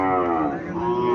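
A Sahiwal cow at a busy cattle market lets out a single long, loud, close moo with a strong tonal drone that holds steady for its full length.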